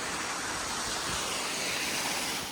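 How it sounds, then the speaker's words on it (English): Water from mountain slopes gurgling and rushing as it disappears underground into a deep cave in a collapsing karst landscape in Serbia, a steady, close broadband wash with no voices. "you can hear it gurgling as it vanishes underground"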